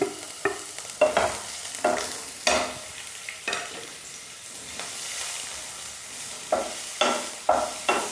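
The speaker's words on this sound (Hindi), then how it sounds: "सबसे पहले गाजर डालेंगे और उसके साथ ही फिर शिमला मिर्च भी डाल देंगे।" Carrot and capsicum stir-fry in oil in a pan for veg spring rolls, a steady sizzle broken by repeated sharp scrapes and tosses of a spatula, close and loud with no voices.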